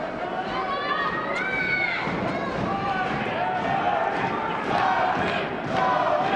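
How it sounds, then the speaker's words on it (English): A boxing arena crowd in Edmonton cheers loudly and steadily through a bout, rising and swelling in waves while a ringside commentator talks over the noise. "And the crowd here in Edmonton cheering on Tony Padilla"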